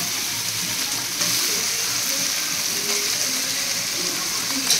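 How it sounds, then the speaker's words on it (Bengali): Tomato frying in a pan of hot oil, giving a steady, even sizzle that holds for the whole stretch with a slight lift partway through, no voices over it. "এবার এর মধ্যে টমেটোটা দিয়ে ভাজতে থাকবো।"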